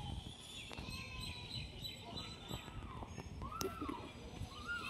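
Kalshira and Giribaz pigeons kept as a hobby at a home loft give faint, intermittent rising-and-falling calls against a quiet background hum.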